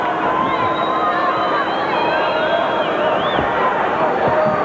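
A restless boxing crowd murmurs in a Tampa arena during round nine, a dense steady babble of many voices with faint whistles and calls rising above it.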